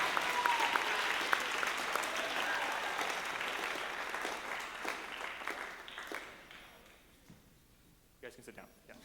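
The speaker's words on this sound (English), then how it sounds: "one more round of applause for all of the Symphonic Band Award recipients." Sustained audience applause at a Clovis High School spring band concert honoring Symphonic Band award recipients, dense clapping that gradually thins and fades toward the end, with a few scattered late claps.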